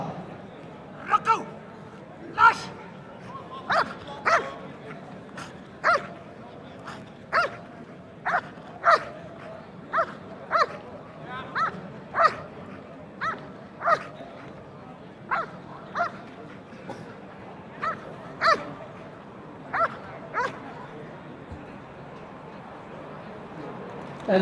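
A KNPV police dog barks repeatedly during a 1997 obedience and bitework trial, about twenty sharp, evenly spaced barks at moderate distance, with voices talking in the background.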